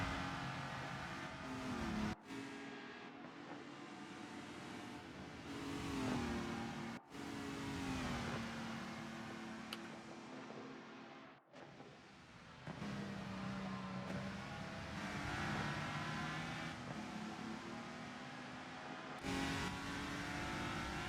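Race cars in the RENNSPORT sim racing game on the Nordschleife, engines revving hard and climbing through gears with sharp upshift cuts, pulling strongly out of slow turns and uphill, loud and continuous with no talking.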